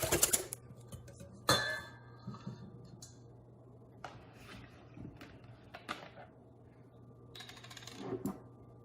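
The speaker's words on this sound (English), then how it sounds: "Whisk that up." Gluten-free crepe batter made with Bob's Red Mill 1-to-1 baking flour is whisked in a bowl, giving scattered light metallic clicks and taps, close and fairly quiet, with no talking.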